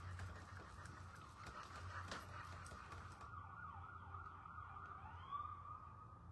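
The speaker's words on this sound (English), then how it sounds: "I hate when I hear sirens and it's close to home" An emergency siren wails at a moderate distance near a residential home, a steady rising and falling tone that fades partway through, with faint outdoor background noise.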